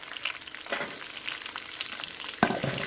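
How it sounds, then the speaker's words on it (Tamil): Onions for pepper chicken masala fry on fairly high heat, giving a close, continuous sizzle with occasional stirring scrapes and one sharper clatter near the end. No one speaks. "நல்லா பொன்னிறமாக வர வரைக்கும் நல்லா வதக்கணும்"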